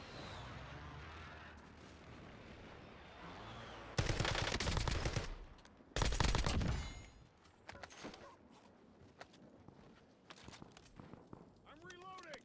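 Automatic gunfire in a first-person shooter video game, two loud sustained bursts of rapid shots close up, followed by scattered quieter shots and footsteps, with a voice talking at times.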